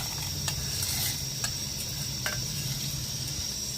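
Ginger and garlic frying in a pan for Andhra-style mutton paya curry, with a steady, close sizzle and occasional light clicks of stirring, no voices.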